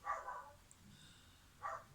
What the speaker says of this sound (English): Don't know if you can hear the neighbour's dog there